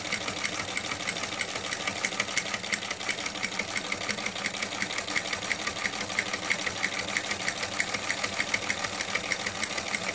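Singer sewing machine fitted with a buttonholer attachment stitching a buttonhole, a fast even mechanical chatter of rapid stitches running steadily throughout at close range.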